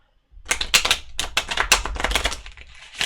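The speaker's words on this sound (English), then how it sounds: "this deck's always difficult to shuffle" Quick, crisp riffling of a tarot card deck being shuffled, with several rapid bursts of flicking and snapping close by, no voices.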